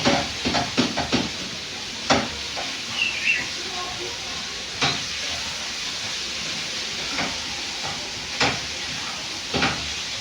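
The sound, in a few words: stirring sausage and potato in a pan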